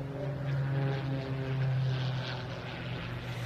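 A Mudry Cap 232 aerobatic plane drones steadily overhead at an air festival, a continuous propeller-engine hum with a low buzzing tone that holds for several seconds.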